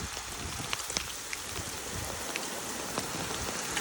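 Hail pelting down outdoors: a dense, steady patter of countless small impacts with sharper individual hits scattered throughout, close and continuous, with no voices.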